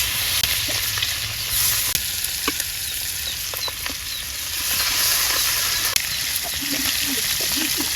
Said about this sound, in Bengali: তেলটা গরম হয়ে গেছে, মাছ দিয়ে দেই।